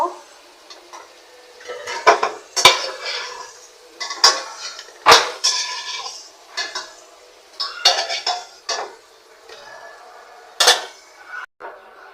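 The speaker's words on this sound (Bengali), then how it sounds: "এখন আলুটাকে উঠায় নিব" Fried potatoes are lifted from a pan of oil: a run of sharp metallic clinks and scrapes of a utensil against the pan, spaced irregularly over a faint background sizzle.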